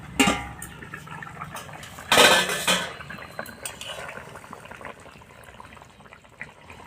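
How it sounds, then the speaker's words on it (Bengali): A metal lid clanks as it is lifted off a cooking pot of simmering fish roe fritter and potato curry, one loud close clatter midway, with faint kitchen clinks before and after. "হয়ে গেছে, এবার আমি ঢাকাটাকে খুলে নেব।"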